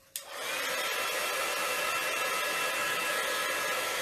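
A hair dryer blasts Brusho watercolour paint dry on paper, switching on abruptly and then blowing at a steady, close, loud whir with no speech.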